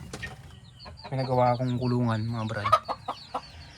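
A chicken in a cage gives a drawn-out, close clucking call lasting about two seconds, with someone speaking briefly around it.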